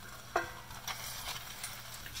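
Cooked kidney beans tipped into a simmering masala and stirred, a soft wet plop followed by faint scraping and light sizzle, quiet and close.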